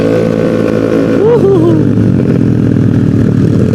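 A Yamaha Mio motorcycle with a 200cc engine and a VRG aftermarket exhaust drones loudly and steadily up close at a constant rumble, with a brief squeal near the middle and a voice partly under the engine noise.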